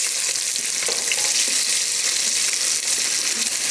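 Curry leaves, coriander and small and large onions sizzle loudly in hot oil for a Madras fish curry, a constant bright hiss close by with occasional stirring scrapes.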